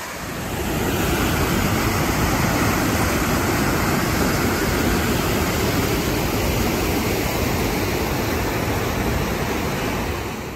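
A small waterfall spills off a canyon wall into a river in Banff and Jasper country, a dense, constant rushing roar of falling water that stays loud and even throughout.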